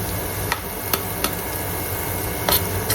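Garlic cooking in hot coconut oil, a steady crackling sizzle with a few sharp clinks of a utensil against the pan, close and alone with no talk.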